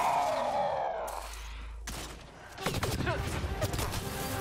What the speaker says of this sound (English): They're willing to turn around and shoot us while they're fighting the bugs.